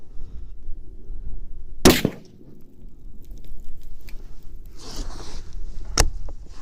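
Two sharp, loud rifle reports from a T/C Compass in .308 firing 168-grain A-Max handloads with IMR4064 powder, the first shot around two seconds in and a second crack near the end, over steady outdoor range background.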